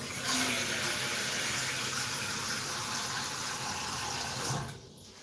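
Water pours steadily from a kitchen tap into a pot for boiling, a continuous close splashing rush that tapers off near the end as the flow stops. No voices.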